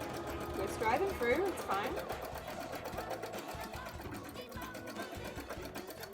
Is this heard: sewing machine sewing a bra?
yes